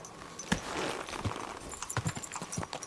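Horse hooves clip-clop in Kingdom Come: Deliverance II, a steady walking rhythm of close, distinct hoof strikes on the ground, heard alone with no talk.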